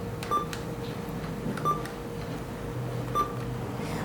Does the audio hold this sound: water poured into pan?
no